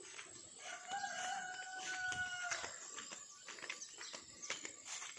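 A rooster crows once clearly among chickens on a small farm, followed by scattered soft clucks and clicks at moderate distance, no talking.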